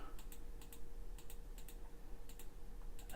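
Someone types a password on a computer keyboard, a few quick light key clicks in small clusters, faint and close against a quiet room hum.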